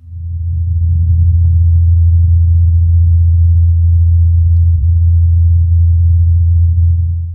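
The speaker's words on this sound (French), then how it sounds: "Ce que vous entendez là, c'est le bruit des pales du drone." A steady low droning hum holds constant throughout, muffled and thin, from the Ingenuity helicopter drone's rotor blades spinning in the thin Martian atmosphere, with no voices.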